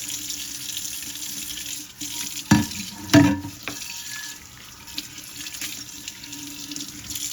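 A pan being washed in a single kitchen sink under a running tap, a soft steady stream of water with two sharper splashing clatters near the middle, close by and without talk.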